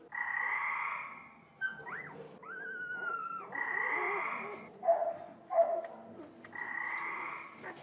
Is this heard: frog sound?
yes